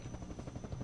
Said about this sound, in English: get in this hunter chopper